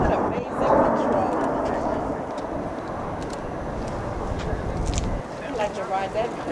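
A Boeing 747 carrying the Space Shuttle on a low approach gives a broad, steady jet rumble that swells and fades slightly, heard under nearby people talking throughout.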